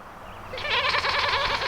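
Goats on a farm on a wet day. One bleats a wavering call that starts abruptly after a quiet moment, close and clear.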